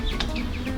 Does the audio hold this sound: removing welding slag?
no